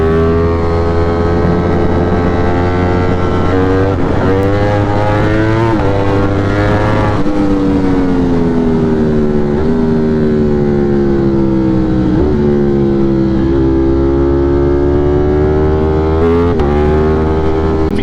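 A Ducati motorcycle engine roars loudly and continuously while riding, its pitch climbing and dropping through repeated gear changes with rushing wind noise underneath.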